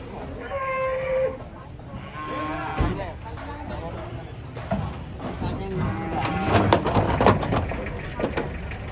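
A cow moos in a short, tonal call, followed by another lower moo amid crowd chatter and clattering at a livestock unloading from a truck, with people talking throughout.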